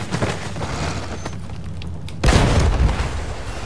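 A heavy cannon blast in the Battlefield 1 single-player campaign, a sudden loud boom about two seconds in that rises over a steady rumble of battle noise, with no talk.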